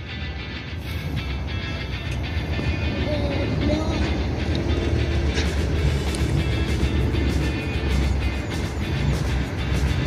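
A Jakarta-Bandung high-speed EMU train runs on its new track during a test run, giving a continuous rolling rumble that swells slightly midway, heard from trackside with some faint background noise.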